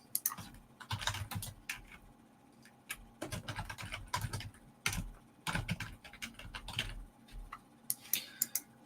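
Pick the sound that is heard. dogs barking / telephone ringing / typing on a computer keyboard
typing on a computer keyboard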